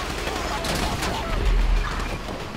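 Rapid bursts of gunfire in the Grand Theft Auto 5 video game crackle through a dense, busy mix. Voices talk over the shooting throughout.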